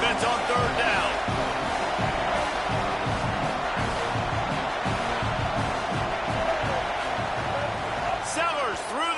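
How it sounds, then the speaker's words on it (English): A stadium crowd in EA College Football 27 roars as the defense lines up on third down, a dense sustained wall of cheering with some sharp thuds, heard under a commentator's voice. "Decibels rising as the crowd gets behind this defense on third down."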